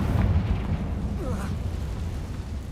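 In Hogwarts Legacy, a Confringo fire spell explodes with a low, rumbling boom that trails into a deep roar, with a voice faintly heard under it.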